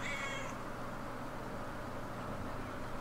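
A cat meows briefly at the start in the video game Brothers: A Tale of Two Sons, a short near call over a steady low ambient hum that continues alone afterward.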